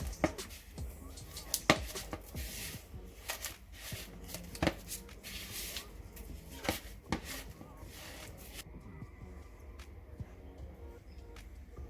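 Cookie dough made from butter, salt and other ingredients being mixed together, with a busy run of scraping, thudding and clattering strokes that stays fairly close and steady, then thins out near the end.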